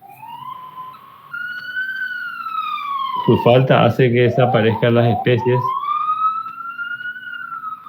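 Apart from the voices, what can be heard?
ambulance siren somewhere nearby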